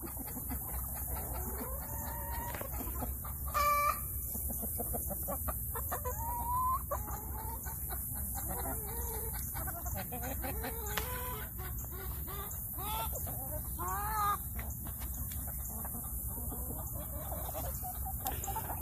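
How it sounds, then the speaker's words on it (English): Chickens cluck and squawk steadily on a farm, with a rooster crowing now and then, moderately close and unbroken by talk throughout. "the ducks and the chickens are not getting along anymore."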